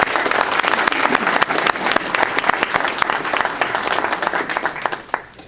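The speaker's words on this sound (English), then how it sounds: "So if you could give them a round of applause." Sustained audience applause at a Goodwill speech event in Lorain, dense clapping from a crowd that stays loud and steady, then tapers off near the end.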